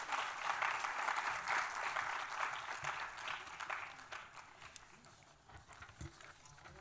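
A dense crowd applauds at a welcoming ceremony, loud and continuous at first, then thinning into scattered claps toward the end, with no talk over it.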